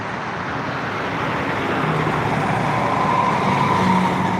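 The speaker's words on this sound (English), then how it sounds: "Looks like Dalton Fire Department fixing to ride by." A Dalton Fire Department fire engine rolls past on the road, a steady broadband rumble of engine and tires that swells slowly as it nears, with no siren standing out.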